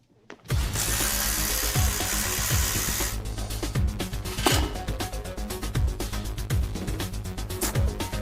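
Ratchet wrench working on engine headers in a shop, rapid repeated clicking bursts and metallic clatter at close range, no speech.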